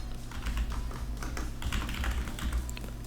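Rapid keystrokes on a computer keyboard while code is entered in Roblox Studio, a steady close clatter of taps with no talking, set against a low constant hum.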